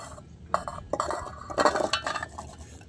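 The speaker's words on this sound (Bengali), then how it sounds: "এবার আমি এটা একটা মিক্সি জারে ঢেলে দেব।" Cut raw mango pieces drop into a steel mixer grinder jar in a kitchen, a few bright clinks and rattles in short bursts, close and moderately loud.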